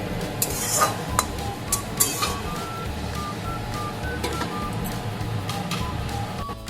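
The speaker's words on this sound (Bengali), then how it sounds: "ম্যাগিটা একটু নাড়াচাড়া করে আমি এখন একটু ঢেকে দেব।" Maggi noodles with vegetables being stirred in a pan, street-style masala preparation; a steady scraping and stirring runs throughout with soft sizzling underneath and occasional sharp utensil clicks against the pan, close and moderately loud, no talking.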